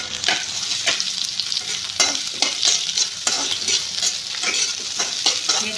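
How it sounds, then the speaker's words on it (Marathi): Chopped onion, mustard seeds and cumin sauté in hot oil with a loud, continuous sizzle, broken by rhythmic scraping strokes of a spatula stirring the pan, close and with no voices. "हे छान लालसर होईपर्यंत परतून घ्यायचं"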